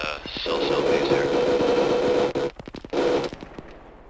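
Military video game firefight with enemy contact: rapid, crackling bursts of gunfire stutter in quick succession, loud and fairly close, breaking up near the end into scattered shots.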